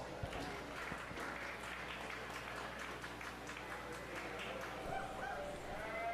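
At a 4-H fair sheep show, spectators give a soft round of applause that sounds distant and faint, with voices and farm animals audible in the background.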